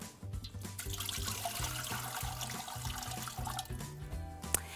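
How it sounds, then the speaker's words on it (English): A cooking pot being filled with about two inches of tap water for steaming lobster tails, the water running and splashing steadily and close by with no talk over it. "So we're gonna fill our pot with about 2 inches of water."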